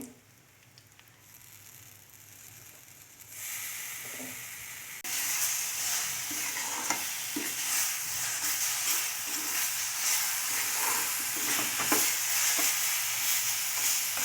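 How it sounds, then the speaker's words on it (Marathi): Semolina sheera for a prasad offering roasting in a pan with mashed banana, giving a steady close sizzle and soft stirring scrapes that grow louder partway through, with no talking. "ह्याच्यामध्ये केळ टाकल्यानंतर एक दोन सेकंड परत भाजून घेऊया चांगलं"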